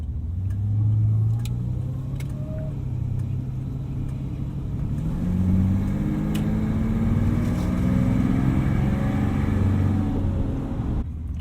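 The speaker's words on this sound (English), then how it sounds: "I love the rumble of this idle" A Jaguar V engine idles with a steady low rumble, close and continuous, with slight swells in pitch as it runs on its own.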